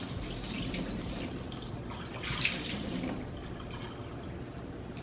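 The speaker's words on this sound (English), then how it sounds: "I'm gonna probably have to pour some of this brine off because I don't want it to overflow." Brine pours out of a container during preparation of a chicken or turkey roast, a steady close splashing and trickling stream that runs throughout with one brief louder gush midway.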